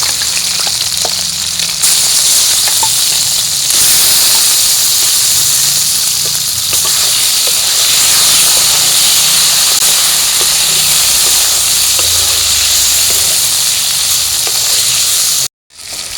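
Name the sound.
turmeric-marinated kuche fish frying in oil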